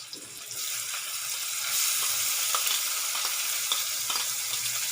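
Onions and tomatoes fry in a pan for street-style masala Maggi noodles, a continuous crackling sizzle with small pops and spits that grows slightly louder, close and alone without talk.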